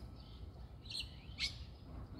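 Two brief dove calls, a short one near the middle and a sharper one just after, over a steady low rumble of woodland background noise.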